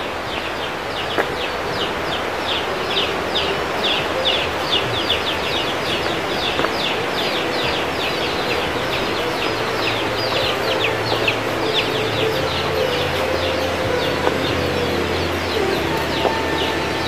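Chickens cluck and coo nearby outdoors at a neglected rural nature spot, a steady dense chorus of repeated clucks over constant background noise, with no talk.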